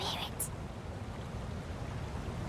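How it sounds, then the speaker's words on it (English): A river flowing, a continuous broad rushing wash of water heard steadily and fairly close, alone without talk apart from a brief faint high sound at the start. "We hear the river."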